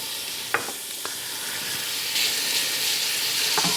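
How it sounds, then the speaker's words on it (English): Bacon crackling in a hot pan on the stove, a dense close hiss with a few sharp pops and a light scrape of stirring. "by cooking our bacon."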